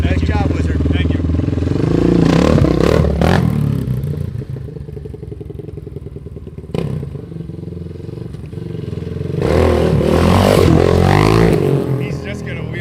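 1997 KTM 620 LC4 single-cylinder motorcycle revving loudly during a wheelie, the engine rising, falling and surging again over talk from nearby people.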